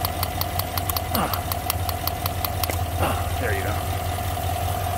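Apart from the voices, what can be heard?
5.3 V8 engine idling with a misfire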